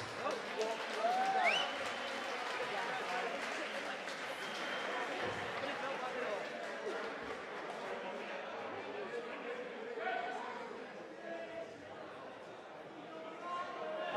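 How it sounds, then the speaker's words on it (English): Crowd at an amateur boxing event claps and murmurs for both fighters after a bout, a sustained diffuse wash of applause with cheers and chatter mixed in, moderately distant and fading slightly toward the end. "I'd like to give a big round of applause to both fighters."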